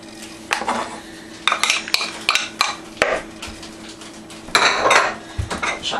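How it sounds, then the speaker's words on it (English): Onion being added and worked into a salmon cake mixture in a bowl, with clinks of utensils, knocks and scraping against the dish in uneven bursts, close and moderately loud, with no talking. "Now, next I'm going to go ahead and add the onion."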